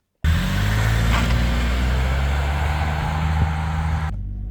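A Saab 9-3 Aero XWD sedan drives on the road with a steady, low engine hum and road rumble from inside the cabin. The level stays even throughout and then cuts off abruptly near the end.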